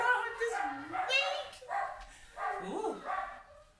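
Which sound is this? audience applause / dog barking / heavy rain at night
dog barking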